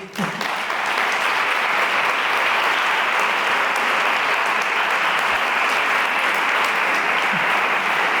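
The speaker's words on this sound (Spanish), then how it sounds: "Aplausos para ella." A large audience applauds steadily after a health talk on healthy living habits, a dense, even wash of clapping that starts abruptly and holds at full strength throughout.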